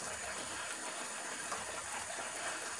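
Water gushes steadily into a cooking pot of beef stroganoff that is about to simmer, a continuous broadband rush heard close and fairly loud throughout, with no voices.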